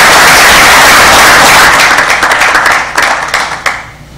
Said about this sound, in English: So I think she should get a round of applause for that.